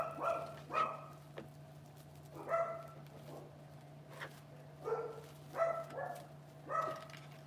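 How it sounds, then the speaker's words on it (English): Dogs bark repeatedly in the background in an indoor home setting, scattered barks and short yips in irregular bursts at a moderate distance, over a steady low electrical hum. "the dogs are always barking in the background"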